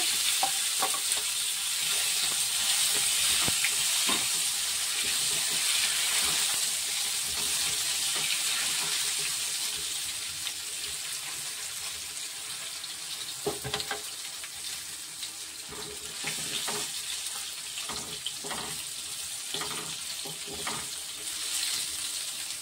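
New potatoes sizzling and frying in a pan with asafoetida, a steady close crackle with occasional stirring scrapes and faint water sounds, no talking.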